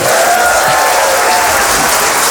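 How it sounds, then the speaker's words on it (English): An audience in a festival tent at Beautiful Days claps steadily and energetically throughout, a dense, even wash of applause with no voices standing out. "Can we have a quick round of applause, Matt Kennard?"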